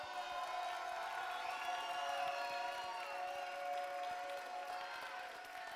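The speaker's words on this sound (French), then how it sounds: "avoir un tonnerre d'applaudissements de votre part" Steady, sustained applause from a large audience at a French song contest final for blind and visually impaired performers, with scattered cheers mixed into the dense clapping throughout.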